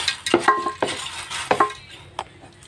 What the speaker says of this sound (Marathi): आपण आता हे धना आणि बडीशेपमध्ये मिक्स करतो. ते परतून घेऊया.